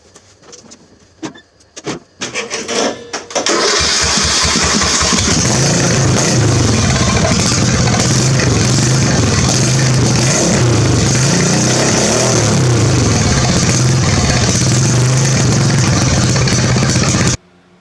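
A custom fast lawn mower engine with a custom exhaust baffle and chrome tip is pulled over a few times, then catches on a cold start and runs loud and raw, a steady, rough, close-up roar.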